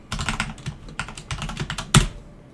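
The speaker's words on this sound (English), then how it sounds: "Using a keyboard I don't normally use." Rapid clacking keystrokes on an unfamiliar computer keyboard, close and crisp in quick bursts, ending with one harder key strike.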